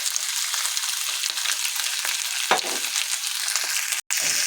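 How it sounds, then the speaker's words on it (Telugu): Egg pasta ingredients frying in a pan, a steady loud sizzle throughout with a few brief clicks and scrapes from stirring, close and continuous with no talk. "ఇవి వేగాలి, 2 నిమిషాల్లో వేగాలి."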